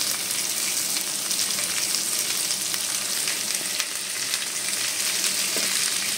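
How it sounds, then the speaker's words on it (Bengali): Chopped ivy gourd (kundri) frying in hot oil in a pan, a steady, loud, dense sizzle and crackle that holds evenly throughout with no talk. "তারপরে আমি এখানে যে কুঁদরিটা কেটে রেখেছি ওইগুলোকে দিয়ে দেবো, দিয়ে একসঙ্গে ভাজবো"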